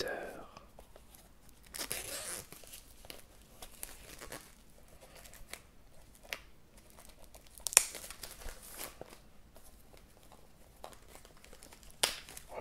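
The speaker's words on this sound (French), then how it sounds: "enlever le blister." Blister plastic wrap being torn and peeled off a combo Blu-ray and DVD box, a close, quiet crinkling and ripping with a few sharper snaps, no talking.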